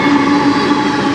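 A CN freight train rolls past with a long string of hopper cars, a steady, close rumble with a continuous tonal hum and no breaks across the short stretch.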